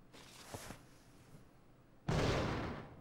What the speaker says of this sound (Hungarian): How'd you like to do some target practice with me?